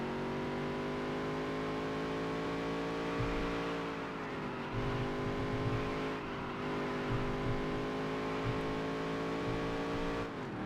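Race car engine in the Dirt to Daytona video game drones steadily at high revs, a dense harmonic whine holding loud and continuous with slight pitch dips as gears shift.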